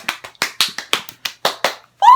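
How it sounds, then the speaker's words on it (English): A small group claps in a rhythmic count-off to congratulate a giveaway winner, with about ten sharp, separate claps close by, followed by a brief cheer at the end. "Guys, let's give her a round of applause"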